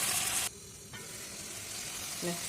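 Meat fries in a pan in a kitchen, a steady close sizzle that starts loud, drops suddenly, then continues more quietly with a faint clink of a utensil near the end.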